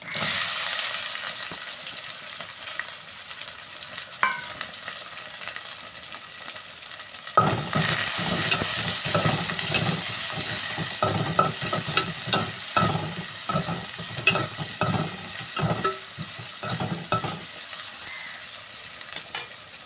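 Urad dal and sliced onions hit a hot pan with a steady close sizzle that grows louder and busier partway through, broken by repeated scraping and stirring clatter. No one speaks.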